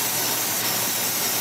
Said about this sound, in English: So now what I do is another bed of cooking spray just to loosen up whatever's in there